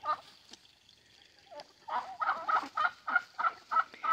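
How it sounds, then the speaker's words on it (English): Chickens on a small woodland farm, hens and roosters, give repeated loud clucking, squawking calls in a rhythmic series, close by and without talk. "those are hens and the dark orange ones are the roosters"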